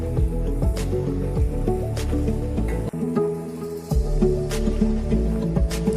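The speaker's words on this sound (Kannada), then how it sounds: "ಈಗ ಇದಕ್ಕೆ ಹುರಿದಿಟ್ಟುಕೊಂಡ ಗೋಡಂಬಿ ಮತ್ತು ಒಣ ದ್ರಾಕ್ಷಿ ಹಾಕ್ತಿದ್ದೇನೆ. ಇನ್ನು ಇದನ್ನು ಚೆಂದ ಮಿಕ್ಸ್ ಮಾಡಿ." Jackfruit seed halwa is stirred together with roasted cashews and raisins in a pan, giving thick, sticky squelches and squishes close up over a continuous tonal background tune.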